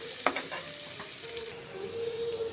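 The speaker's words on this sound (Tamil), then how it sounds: "இப்போ நான் ஆனியன் இதில் ஆட் பண்ணிக்கிறேன். இதை நல்லா ஃப்ரை பண்ணிக்கிறேன்." Onions fry in hot oil with a steady soft sizzle, a brief utensil clink near the start and faint stirring scrapes, with no talking.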